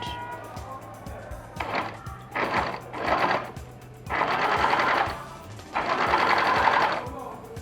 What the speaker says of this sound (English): So now I'm at the other side of the pocket and I'll be stitching upward.